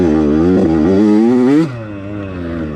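A Yamaha YZ85 dirt bike engine revs hard on the ride to a motocross track, a loud close buzzing whine rising in pitch before dropping off sharply, then settling into a lower throttle drone.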